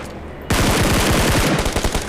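Rapid automatic gunfire from an enemy bot in the BGMI battle royale game, a loud sustained burst of closely spaced shots that starts abruptly after a quiet moment and runs to the end.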